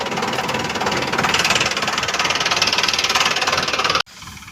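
A tractor engine idles on a farm plot during chilli-field spraying, with a loud, close, rhythmic chugging knock throughout that drops abruptly near the end to a quieter running sound.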